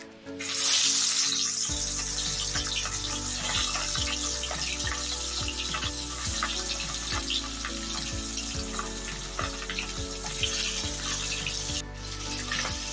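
Pieces of fesha fish rubbed with salt and turmeric fry in hot oil, a sizzle that surges as they go in and then holds as a steady, close crackling hiss with faint background music underneath.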